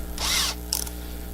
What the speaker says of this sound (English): So I'm going to use your guys' drill.